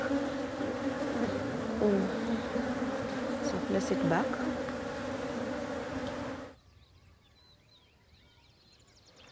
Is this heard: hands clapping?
no